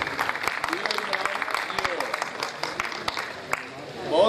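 A crowd claps steadily through the whole stretch at an Urdu poetry gathering (mushaira), dense and sustained applause with sharp individual claps standing out and a voice rising at the end.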